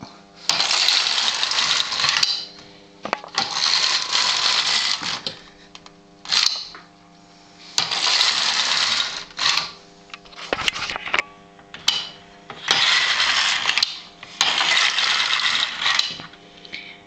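A domestic knitting machine with a Memomatic patterning device knits simple Jacquard rows, giving repeated bursts of rattling, clacking carriage passes that each run about a second and a half, separated by short pauses and clicks, close and loud with no talk.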